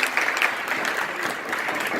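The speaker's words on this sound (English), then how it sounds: "Big round of applause, please." Applause from the attendees of a monthly concierges' association meeting, steady clapping by a roomful of people sustained at an even level throughout, with no voices over it.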